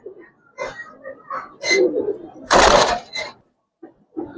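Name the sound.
Giribaz and coloured pigeons cooing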